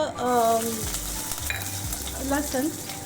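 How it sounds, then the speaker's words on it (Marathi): Cumin, mustard seeds and finely chopped garlic frying in hot ghee give a continuous, fairly loud sizzle and crackle, with a few brief tonal sounds over it. "लसण थोडा सोनेरी रंग येईपर्यंत परतून घेऊया, तळून घेऊया त्याला"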